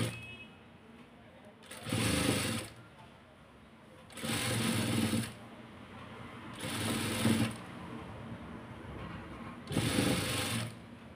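A sewing machine stitches lace onto a palazzo pant garment in four separate bursts of about a second each. Quiet pauses fall between the runs, and the machine sounds close and moderately loud.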